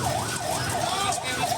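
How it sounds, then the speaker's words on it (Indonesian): Ambulance sirens wailing at a train crash scene near Bekasi Timur station, a loud rising-and-falling siren close by, with other sirens and crowd noise layered beneath. "Banyak ambulan belakang."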